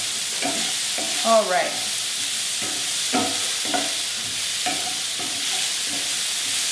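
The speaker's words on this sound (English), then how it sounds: "I'm going to stir it a few more times here" Penne pasta sizzling in a pan while being stirred, with repeated scraping strokes over a steady frying hiss; a voice speaks briefly near the middle.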